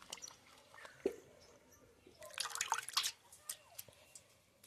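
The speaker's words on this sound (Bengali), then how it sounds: "ধনেপাতাটাকে ধুয়ে আমি তুলে নিয়েছি।" Garden coriander leaves are squeezed and rinsed in water, producing soft splashes, drips and wet squelching, quiet and close, with a louder burst of sloshing midway.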